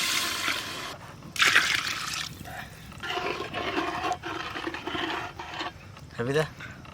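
Water pours from a mug onto washed basmati rice in a cooking pot for egg polao, a rushing splash in bursts with trickling between, while voices talk over it.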